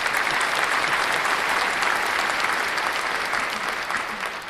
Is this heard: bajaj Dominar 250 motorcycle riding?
no